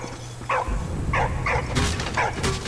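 Dog barking in the video game Valiant Hearts: a few short, clear yips and barks spaced through the clip over a steady game background hum.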